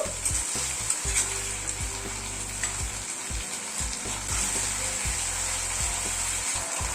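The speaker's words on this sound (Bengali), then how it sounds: "গ্যাসের ফ্লেমটাকে হাই করে দিয়ে 1-2 মিনিট একটু নাড়াচাড়া করে নেব" Eggs in a mix of sauces including soy sauce are stir-fried on a high gas flame, a constant crackling sizzle broken by repeated metallic scrapes and knocks of a spatula against the pan, close and unaccompanied by speech.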